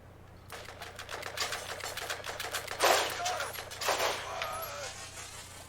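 Rapid gunfire from a player's weapon in the Borderlands shooter game, heard as dense bursts of repeated shots over a steady low hum, swelling and fading across several seconds with two louder peaks.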